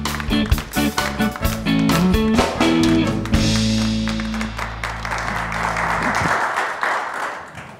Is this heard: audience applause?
yes